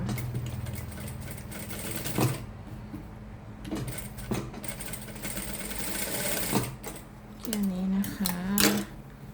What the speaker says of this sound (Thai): แล้วเราก็จะเริ่มเย็บเลยฝั่งนี้